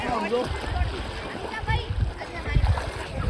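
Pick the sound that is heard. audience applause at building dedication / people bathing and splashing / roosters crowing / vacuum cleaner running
people bathing and splashing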